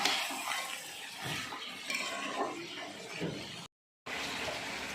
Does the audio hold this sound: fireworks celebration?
no